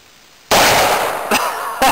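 A Smith & Wesson .357 Magnum revolver fires one sharp, loud shot out of silence, followed by two shorter cracks or echoes in quick succession.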